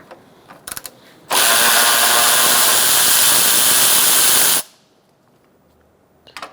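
A power tool with a 10mm socket loosens the battery hold-down bolt on a 2002-2006 Toyota Camry, one loud continuous whirring burst of about three seconds, with a few faint clicks before and after.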